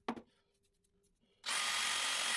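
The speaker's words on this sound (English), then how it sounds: "I start by drilling 4 holes in each rod holder with a 3mm drill bit." A power drill with a 3mm bit boring holes in a plastic rod holder: a short tap and faint rustle, then the drill motor starts abruptly and whirs steadily and loudly up close.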